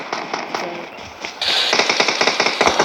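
Rapid automatic gunfire in a shooting video game, dense bursts of shots that turn into a sustained rattling stream midway, with players talking during the firing.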